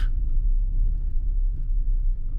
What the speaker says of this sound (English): Bumpy ride as we come in.